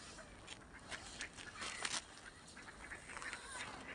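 Ducks call in a few scattered honking bursts over a steady, hissing outdoor background on the water, with the loudest cries near the middle.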